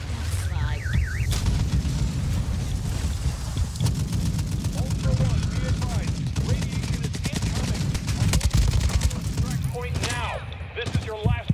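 Rapid gunfire rattles through a Warzone 2.0 DMZ match under a continuous low rumble, partly far and partly closer, while players talk over the action.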